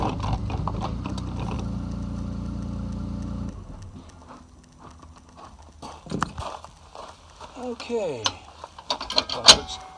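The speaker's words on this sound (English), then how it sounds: "there it goes, claw foot locked in place" Claw foot of an Airstream Basecamp trailer hitch clunking and ratcheting into its locked position, a run of metallic clicks and clanks heard close up after a steady engine drone fades, with brief speech.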